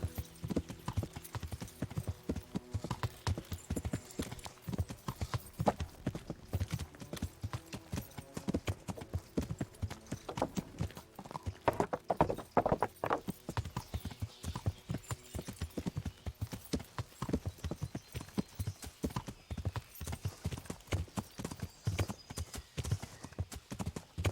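Rapid rhythmic clip-clop of horse hooves galloping in the medieval video game Kingdom Come: Deliverance, quiet and continuous for the whole stretch with layered hoofbeats, no talking.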